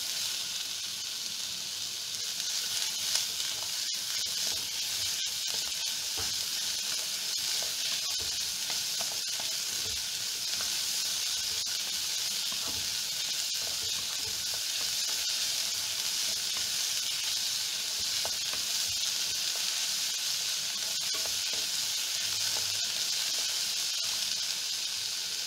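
Sliced onions sauté in hot oil for chilli beef, giving a steady, close, unbroken sizzling hiss with occasional faint ticks from the pan and no talking throughout.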